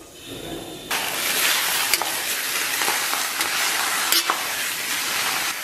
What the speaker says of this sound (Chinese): 咱们小火把五花给它煸出油脂，把五花片煸炒至微焦黄